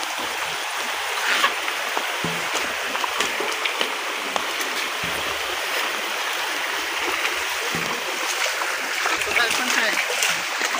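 Children splash about in a village river, the water churning in a steady broadband wash of splashes and flow, with faint voices mixed in throughout.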